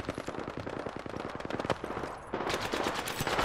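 Rapid automatic gunfire in a battle royale video game, a dense stream of sharp shots fired close, with a brief pause and then louder firing.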